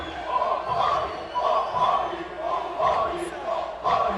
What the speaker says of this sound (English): They're constantly cheering his name here.